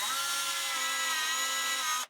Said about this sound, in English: so I know just where to drill out the recess for them